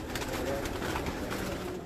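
A pigeon from a flock of flying pigeons coos softly beneath a dense, steady wash of background noise.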